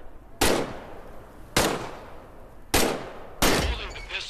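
Four loud, sharp pistol shots in the Medal of Honor VR video game, evenly spaced about a second apart, each cracking and decaying briefly before the next.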